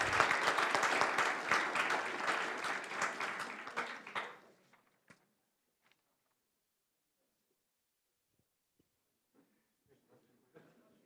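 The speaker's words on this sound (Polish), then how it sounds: "Gromkie brawa." Applause from the audience at a municipal rankings awards gala, a loud burst of clapping lasting about four seconds before cutting off into near silence with a few faint sounds and brief talk.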